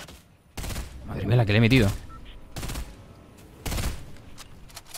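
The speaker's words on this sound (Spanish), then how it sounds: "¿Quién está disparando?" Fortnite gunfire, short bursts of rapid shots in three separate volleys, with someone talking excitedly over part of the action.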